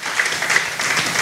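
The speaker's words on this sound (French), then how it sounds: "Acclame pour la parole de Dieu." A church congregation at a Sunday service breaks into dense, steady clapping from many hands, close and filling the room.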